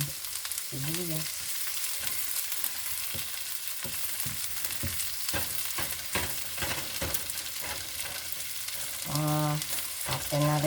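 Garlic and onion sautéing in a pan, giving a steady close sizzle throughout with occasional stirring scrapes and a few short tonal clinks.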